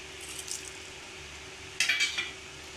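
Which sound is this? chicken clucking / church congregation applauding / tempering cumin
tempering cumin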